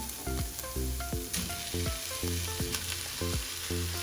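Chicken mince frying in a pan for lasagna makes a continuous close sizzle, broken by regular scraping stirs and clinks of a utensil against the pan, with no talking.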